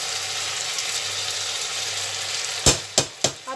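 Onion, green chilies, tomato and spices sauté in a pan for bhindi pyaz with a steady close sizzle, ending in three sharp knocks of a spoon against the pan.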